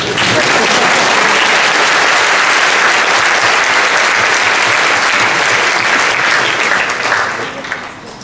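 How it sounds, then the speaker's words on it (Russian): Loud, sustained applause from a large crowd at a youth forum talk, steady throughout and tapering slightly at the end. "Спасибо за аплодисменты."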